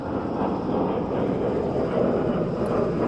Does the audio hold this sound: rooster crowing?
no